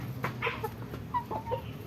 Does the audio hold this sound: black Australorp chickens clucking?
yes